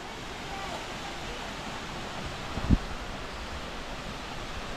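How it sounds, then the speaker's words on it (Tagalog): Katibawasan Falls on Camiguin Island roars as a steady, even rush of falling water, with one brief low thump midway. "Ang taas, tapos ang bagsak ng tubig."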